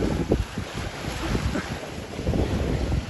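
Strong wind of about 20 knots roars across the microphone while a sailboat moves through waves, with a constant rush of surf and wind and no voices.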